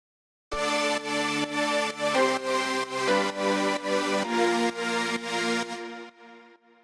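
Layered saw synth chords from a track, stereo-enhanced and drenched in reverb, pump in a steady sidechained rhythm through about eight loud, wide stabs before a short reverb tail fades out.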